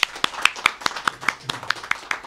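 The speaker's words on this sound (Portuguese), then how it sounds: "Vamos aplaudir o Senhor Jesus?" A congregation at a Brazilian church service claps for Jesus in a brisk, steady rhythm, with crisp individual claps standing out over a softer background of other hands and a faint voice underneath.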